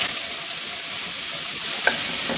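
Chopped spinach stir-fried in a little oil in a pan for a Chinese-style egg dish, a loud continuous close-up sizzle with a single sharp utensil tap near the end.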